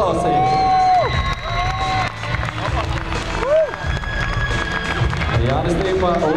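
A basketball arena crowd applauds and cheers during an award presentation for the best Latvian player of the VTB League regular season, loud and sustained with whoops and music-like tones running through the noise.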